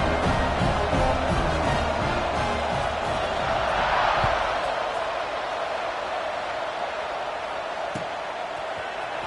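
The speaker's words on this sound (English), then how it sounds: "this crowd is buzzing after that last score" A stadium crowd buzzing at a football game, a broad steady roar of many voices filling the whole stretch, fairly loud and distant, with a commentator's voice faintly on top.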